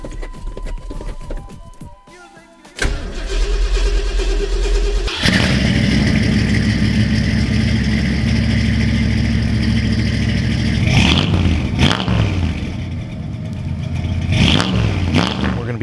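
A 1978 Ford F-250 big block with long tube headers and Flowmaster 40 mufflers cranks over, then catches and settles into a loud, steady, rumbling idle, with a few throttle blips near the end.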